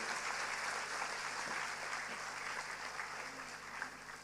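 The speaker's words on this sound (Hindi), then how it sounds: "आप अपने लिए तालियां बजाइए।" A church congregation at a Christian missionary talk claps steadily and loudly throughout, a dense continuous wash of applause with no break.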